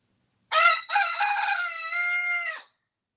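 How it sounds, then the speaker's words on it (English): A rooster crows close by near a door, one long loud cock-a-doodle-doo lasting about two seconds with a brief break near the start, alone with no talk. "This rooster just got closer to the door so he could holler a little harder"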